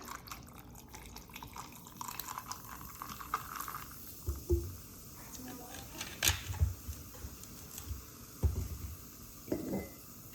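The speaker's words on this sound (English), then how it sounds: "so you're just going to pour some in" An alcoholic drink splashes and trickles into a cocktail shaker in a few short bursts, with soft drips and clinks close by.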